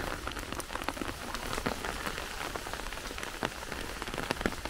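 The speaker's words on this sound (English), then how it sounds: "Rain makes it more difficult to record anything." Steady rain falls in a birch forest and patters on leaves and surfaces, with dense scattered drops close by and no voices.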